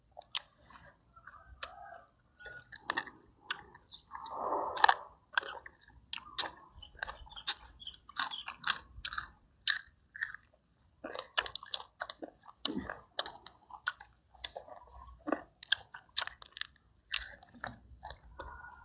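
Crispy grilled quail, eaten with Isan-style papaya salad seasoned with fermented fish sauce, is chewed close up, with loud irregular crunches and bites in bursts and short pauses between them.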